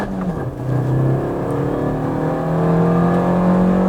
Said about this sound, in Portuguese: primeira marcha e vamos acelerar um pouquinho aqui antes de sair, vamos lá, acelerando